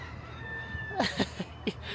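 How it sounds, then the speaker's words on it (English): A rooster crows in short, repeated bursts several times in a row, fairly distant, over a steady outdoor background, in Portugal. "That bloody cockerel is going mental."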